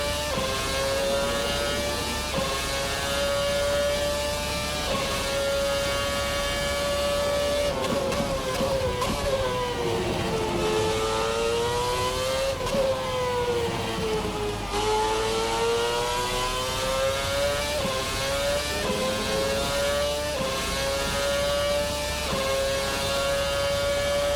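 A Formula RSS 2013 V8 race car in a racing sim video game screams at high revs, its engine note rising and dipping through gear changes and corners in one continuous, loud run with no voices.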